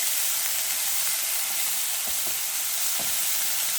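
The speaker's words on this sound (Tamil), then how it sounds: "இந்த வெங்காயத்தை போட்டு பாருங்க" Onion frying in a pan for a tri-colour vegetable poriyal, giving a constant close hiss and sizzle with a few soft stirring knocks near the end.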